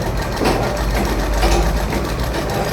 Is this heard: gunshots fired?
no